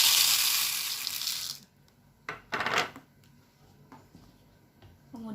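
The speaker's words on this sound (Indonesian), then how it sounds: "Kemudian air dituangkan pada wadah yang telah berisi kacang hijau." Water is poured into a container holding mung beans, a loud close splashing rush for about a second and a half, followed by quieter handling sounds and a brief second trickle.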